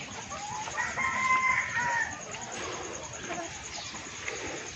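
Chickens cluck and a rooster crows on a Texas backyard farm, the birds close and steady at moderate volume, with a few brief bird calls rising and falling over a constant background hiss.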